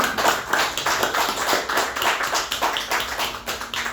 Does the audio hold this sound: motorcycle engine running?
no